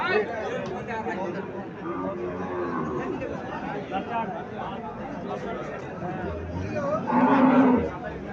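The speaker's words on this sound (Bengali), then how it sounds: "এখানে আরো একটা গাভি দেখা যাচ্ছে" Dairy cows at a traditional cattle market in Cumilla low and moo amid steady crowd chatter and people talking. A louder, closer moo rises near the end.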